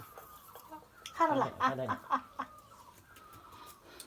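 A chicken clucks close by in a short burst of rapid, fairly loud clucks, with a person's voice speaking around it.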